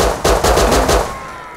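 Gunfire in the survival video game Rust, a quick burst of five or six loud, evenly spaced shots followed by a short decaying tail.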